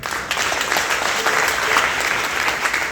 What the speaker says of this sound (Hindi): आप जस्सी के लिए ताली बजाइए